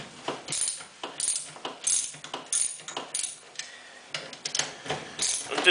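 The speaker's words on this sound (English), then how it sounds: "get the ratchet set the right way around, and you can pretty much just undo them" A ratchet turning bolts loose on a beer engine, a repeated series of sharp metallic clicking bursts in an uneven rhythm with short pauses between strokes, close up and heard alone.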